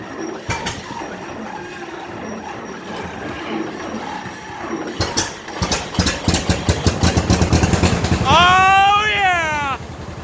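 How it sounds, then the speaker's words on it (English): A tractor engine cold-starts with choke and a little throttle, cranking briefly and catching into a loud, close, rhythmic chugging idle that settles into a steady throb, ending with a rising whistle-like tone. "That's the best damn cold start you've ever heard."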